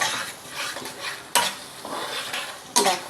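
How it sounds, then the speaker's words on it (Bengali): Eggs are stirred vigorously in a pan over a gas stove, with a utensil scraping and clinking rhythmically against the metal under a soft background sizzle. "দিয়ে ভালো করে নেড়ে চেড়ে নিতে হবে, ভালো করে নাড়তে হবে ডিমটাকে"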